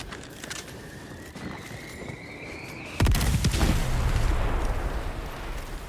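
Enemy artillery in Helldivers 2 lands with a whistling descent, then a heavy close blast and booming rumble, followed by scattered sharp game gunfire.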